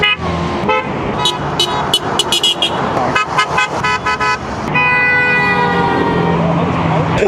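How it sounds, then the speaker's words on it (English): Car horns honk repeatedly in short bursts and one long sustained blast, loud and close amid road traffic noise. "are you getting a lot of honks?"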